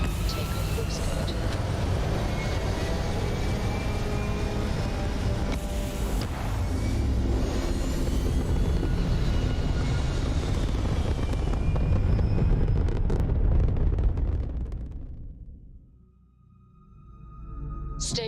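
A spaceship lifts off in the game Starfield with a loud, sustained engine roar and rumble that swells and then cuts away near the end, while a voice speaks over it.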